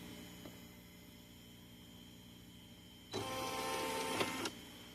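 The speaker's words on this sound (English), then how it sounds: "I'm just going to make it move one step just to make sure that I'm in the right spot" A Brother PE770-series home embroidery machine steps its needle once: a steady whirring motor run of about a second and a half with a small click, over a quiet room hum.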